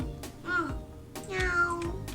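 A cat meows in two drawn-out, wavering calls separated by a short pause, fairly close and clear, with a little background noise between them and no speech.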